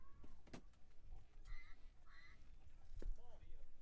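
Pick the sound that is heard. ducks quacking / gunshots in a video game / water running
ducks quacking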